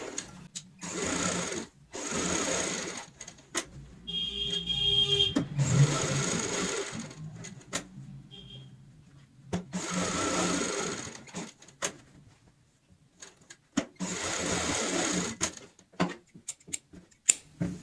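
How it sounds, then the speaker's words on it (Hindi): A sewing machine stitches a handbag seam in several bursts of rapid mechanical chatter, separated by short pauses with faint handling noise in between. "इस तरीके से हमने यहाँ पे सिलाई लगा ली है"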